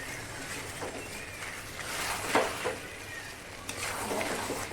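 Chicken pieces with papaya turned through spices in a frying pan, a close crackling sizzle broken by a few louder scrapes and knocks of the spoon, with no talking.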